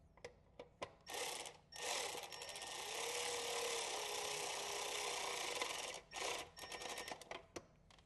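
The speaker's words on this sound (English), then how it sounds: "Now we're going to take our battery ratchet with our T25 Torx. Line up this bolt." A battery ratchet with a T25 Torx bit drives a bolt while installing Harley speakers, with a sustained whirring buzz of about three seconds flanked by short bursts and rapid clicking ratchet ticks, close and clear.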